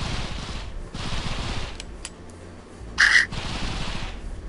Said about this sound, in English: This is my auto gun.